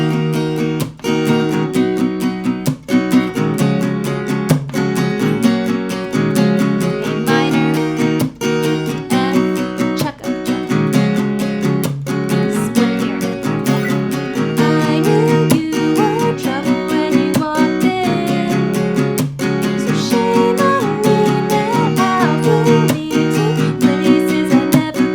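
An acoustic guitar strums chords in a steady down-up rhythm, and sharp percussive muted chucks punctuate the beat. The playing is close and loud and continues with no talking.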